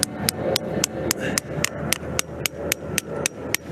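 Steady hammering of a tap into a tree, about fourteen sharp metallic strikes at an even, brisk rhythm, close by, with faint outdoor background noise.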